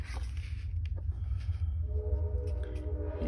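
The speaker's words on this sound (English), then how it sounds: "Oh, here comes the train." A train rolls past a home craft room as a steady low rumble, with faint horn-like tones rising toward the end, heard alone without talk.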